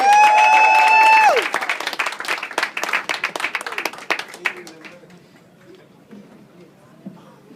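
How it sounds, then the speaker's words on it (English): An audience at Kazi's comedy club claps for a comedian. A burst of applause starts after a short tone and fades over a few seconds into scattered claps and quiet murmuring. "Give him a big round of applause for Bill Russ, everybody!"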